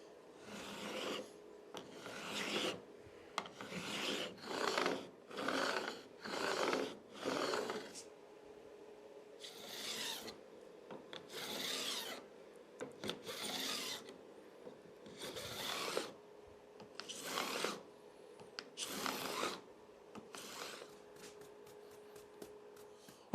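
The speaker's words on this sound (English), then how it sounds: "I have filed the fret ends flat to the fingerboard." Metal file rasping across guitar fret ends to bevel them, a steady series of about fourteen close, even back-and-forth strokes with brief pauses between, no talking.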